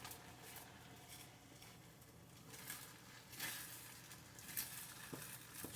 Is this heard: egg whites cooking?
yes